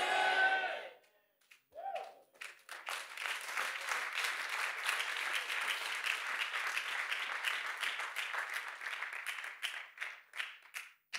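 A church congregation claps together in a sustained burst of applause lasting several seconds after a short loud vocal cry, the clapping dense and steady before thinning out near the end.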